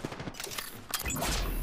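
Distant gunfire in the video game Apex Legends: scattered muffled bursts of shots in the background over less than two seconds, faint and irregular, with game ambience swelling toward the end.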